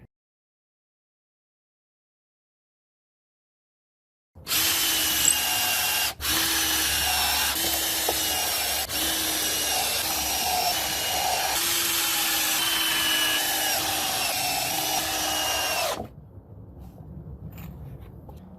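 A power drill whirs steadily for about eleven seconds after a silent start, with brief pauses and pitch dips as it bites into wood, then stops.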